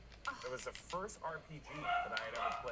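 A household dog lets out agitated yips and whiny barks near the end, partly under a man's ongoing speech.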